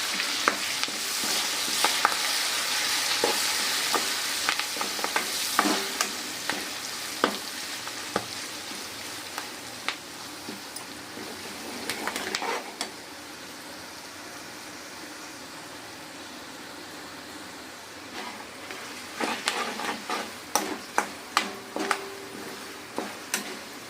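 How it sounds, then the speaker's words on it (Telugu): Steady oil sizzle from curry leaves tempering, with sharp crackling pops scattered throughout and clustering near the end, plus occasional stirring; no voices. "నాకు ఎప్పుడు కరివేపాకు వేసినా కానీ పట్ పట్ పట్ పట్ మనం పేలిద్ది"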